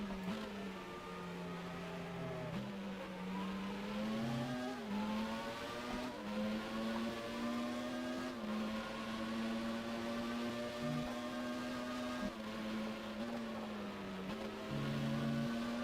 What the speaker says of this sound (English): Double downshift, I think, there on the heavy fuel load